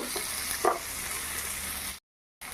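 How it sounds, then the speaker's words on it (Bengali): Chopped onions frying in oil with whole cumin, a steady close sizzle with a small clink of stirring, briefly dropping to silence near the end. "পেঁয়াজ কুচোনো একটু লাল লাল করে এটা আমি ভেজে নেব সবার প্রথমে"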